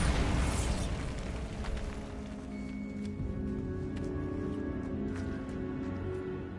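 Bombarda explosion spell from the Hogwarts Legacy video game, a loud booming blast at the start that decays into a long rumbling, crackling tail with scattered debris-like ticks, no talking.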